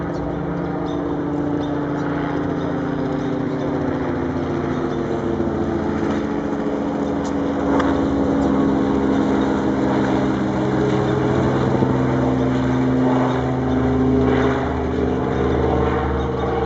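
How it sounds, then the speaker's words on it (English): A helicopter circles low over a botanical garden, a loud continuous rotor and engine drone that swells and fades slightly as it moves around overhead. "here we have a helicopter going around again"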